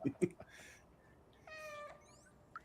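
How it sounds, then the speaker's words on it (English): A cat meows in the video game Stray, one short meow and then a longer clear meow, with a few faint clicks between them. No one speaks. "You can choose to meow."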